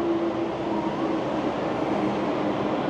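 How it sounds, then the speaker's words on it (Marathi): Steady rumble of the Hong Kong Disneyland train running past, a continuous loud rolling drone with a faint sustained tone, close by and with no talk over it. "हे बघा ट्रेन बघा डिझनीलँडची"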